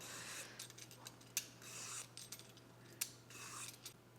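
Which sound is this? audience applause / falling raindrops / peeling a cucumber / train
peeling a cucumber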